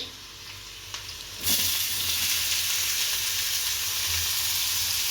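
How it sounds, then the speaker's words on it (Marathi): Chopped onion sizzling in a hot pan, with a steady frying hiss that jumps louder partway through as stirring stirs it up, heard close and alone. "कांदा आपला बऱ्यापैकी परतत आलाच आहे"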